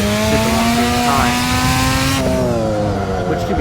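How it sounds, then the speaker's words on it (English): A rotary-engined car bounces off its rev limiter, the engine note held high and steady with rapid stuttering cut-outs, loud and close throughout. "you would never want to just bounce a rotary like that off Redline in real life"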